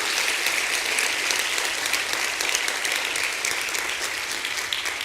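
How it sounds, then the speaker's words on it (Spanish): A church congregation and youth group applaud after a sermon, a sustained, even wash of many hands clapping at moderate volume with no voices on top. "Dale un fuerte aplauso al Señor por su ministración."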